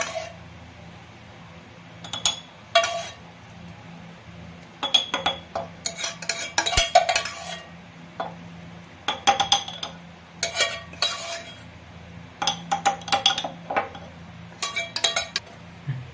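A metal spoon clinks against a small glass jar while fig jam is spooned in, with a dozen or so bright, irregular taps and scrapes in short clusters over a quiet background.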